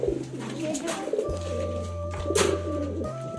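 Homing house pigeons back at their cage, cooing in low, steady, repeated phrases close by, with faint rustling and a couple of brief sharp noises over it.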